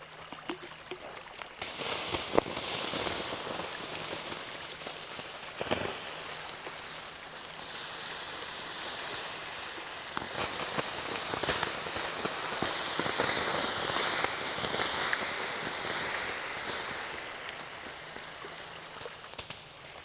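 Water poured or hissing onto a night campfire, a steady broad wash of sizzling, crackling and splashing with sharp pops scattered throughout, fairly close and continuous with no talk.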